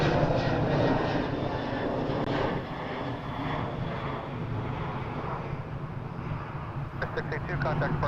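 A jet airliner at Toronto Pearson Airport flies past after a go-around with a loud, steady engine roar that swells and then eases slightly. Faint voices are heard under it.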